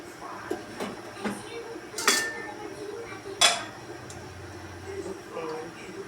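Rice being served for breakfast, with a few bright clinks of dishes and cutlery over a quiet room background.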